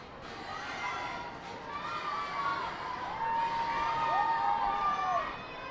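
Crowd at a minor-league baseball game in Harrisburg, a record 7,207 fans, cheering and whooping from a distance in a steady swell that builds toward the end, with scattered shouts.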